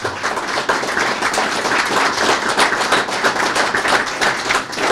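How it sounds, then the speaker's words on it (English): Dense, steady applause from an audience honoring city hall staff at a Rochester State of the City address, continuous clapping at even volume for the whole stretch with no voices over it. "Now you can applaud these people."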